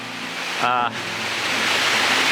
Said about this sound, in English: I have this nice, gentle waterfall falling down in front of me,